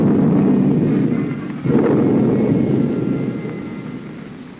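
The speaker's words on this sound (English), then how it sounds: "a storm." A heavy storm rumbles in a deep, continuous roll of thunder that swells sharply partway through and then slowly fades, loud and close with no voices.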